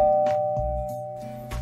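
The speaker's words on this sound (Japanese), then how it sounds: "ヨーデルさんがチャイムを鳴らすと、インターホンからしゃがれた声が聞こえてきました。" Doorbell chime at a house, a sustained electronic tone ringing under a few soft knocks and thuds, heard alone without voices.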